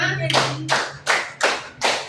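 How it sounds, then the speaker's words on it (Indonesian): A primary-school class of fifth graders claps together in rhythm: five sharp, loud group claps at a steady beat, close by, with a voice trailing off just before the first clap. "Tepuk 1. Tepuk 2. Tepuk 3. Tepuk 4. Tepuk 5."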